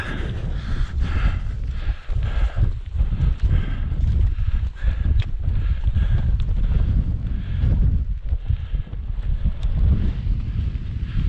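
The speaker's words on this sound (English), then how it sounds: "There is quite a strong wind coming from that way." Strong wind across the summit of Helvellyn, a loud, continuous low buffeting roar against the microphone with uneven gusting surges and no other sounds.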